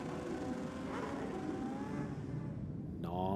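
At a drag strip on bike night, a racing motorcycle's engine drones steadily from a distance, with its pitch shifting slightly through the pass, before a louder, sharper engine note cuts in at the very end.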